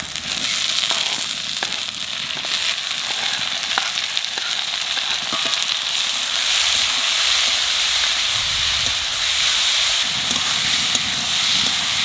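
Tomatoes tipped into chilli masala frying for chana masala, setting off a steady, loud sizzle with crackling pops throughout, no voices over it.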